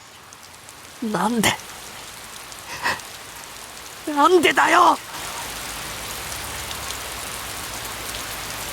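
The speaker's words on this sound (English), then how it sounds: "In seconds, rain began pouring from the clouds above me." Steady heavy rain pours in a video game, a constant hiss that runs under short bursts of voiced dialogue and continues alone once the speaking stops.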